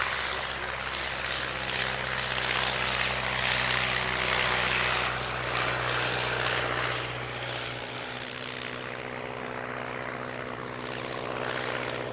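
A de Havilland Fox Moth biplane at an evening air display, its engine running loudly and steadily with a droning propeller tone; the level drops slightly partway through.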